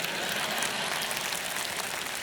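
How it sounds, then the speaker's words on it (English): Church congregation clapping during a relationship-night sermon, a dense, even patter of many hands heard from across the room, fairly soft and continuous with no voices over it. "clap loud right here, like."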